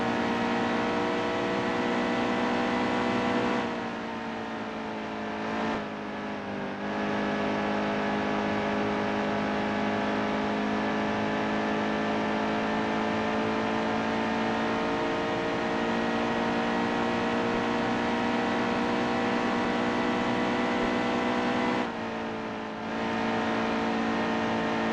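A NASCAR race car engine in the racing game Nascar Heat 2 holds a loud, sustained high-revving drone at steady pitch, broken by two short lifts of the throttle before it climbs back to full power.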